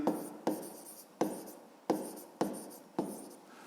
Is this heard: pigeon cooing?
no